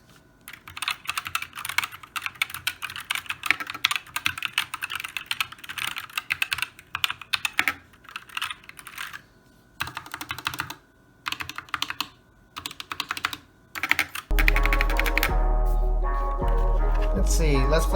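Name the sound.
typing on a customized mechanical keyboard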